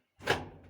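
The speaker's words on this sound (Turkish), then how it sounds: "Kapıyı örttü." A door in an apartment building near an elevator closes with a single soft, muffled thud that fades quickly in a quiet space.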